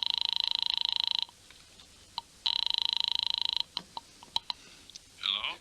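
An old-fashioned telephone rings in two long bursts of rapid bell trills, separated by a pause filled with faint clicks and small handling noises, and it is loud and close in a quiet room.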